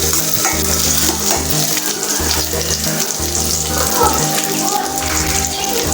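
Chopped small onions (shallots) fry in a pan for a garlic curry, a loud, close, steady sizzle with repeated stirring, while a low hum or voice pulses underneath.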